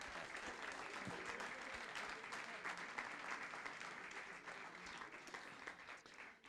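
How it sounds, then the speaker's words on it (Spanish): A faint, distant round of audience applause at a talk, a steady continuous patter of many hands that carries on for several seconds without any voices over it. "Más bien denle un aplauso a Dios"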